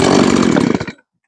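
A chainsaw roars at full rev close by for about a second, then cuts off abruptly into silence.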